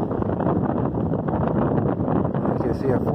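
Strong gusty wind buffets the microphone on a lakeside dock, a steady loud roar with surging gusts and rustling that never lets up.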